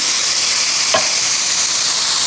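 Chopped onions and minced garlic browning in olive oil, giving a steady soft sizzle throughout with a single brief scrape of stirring about a second in.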